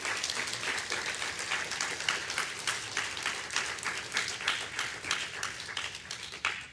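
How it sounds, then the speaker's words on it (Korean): Dense, sustained audience applause fills a hall at a patriotic lecture evening in Atlanta, with many hands clapping steadily at close range for the whole stretch and no pauses. "여러분들 우리 김은구 대표에게 큰 격려와 축하의 박수를 좀 보내주십시오"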